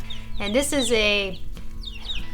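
A Favaucana hen, a cross breed, gives a few short rising clucks close by while a person talks over and around the calls.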